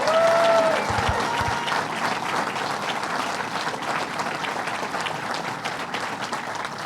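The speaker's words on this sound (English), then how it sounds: "So let's give them a big round of applause." Crowd at Belmont Park race track breaking into applause at an outdoor announcement event, broad sustained clapping from many people with a brief whistle at the start, fading slightly but continuing throughout.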